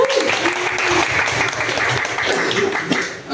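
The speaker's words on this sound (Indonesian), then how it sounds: "Boleh tepuk tangan dulu." A crowd claps in steady applause for a few seconds, a dense patter of many hands with some voices mixed in.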